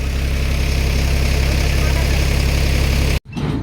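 A tractor engine idles loud and close with a steady, low, rhythmic chug, then cuts off abruptly near the end before a brief rumble returns.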